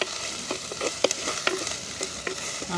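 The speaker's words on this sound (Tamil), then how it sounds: "வெங்காயம் பச்சை மிளகாய் அப்படியே வதங்கி கொண்டு வந்துட்டு" Onions and green chillies sautéing in a pan with crushed garlic and ginger for a village-style goat intestine curry, a steady loud sizzle with a spoon scraping and stirring in repeated strokes, close up and without speech.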